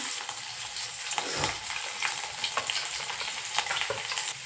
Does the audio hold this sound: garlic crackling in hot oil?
yes